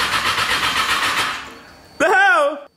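A Yamaha XJ6 motorcycle's engine cranks for about a second and a half under steady rumble, then stops; a voice follows afterward.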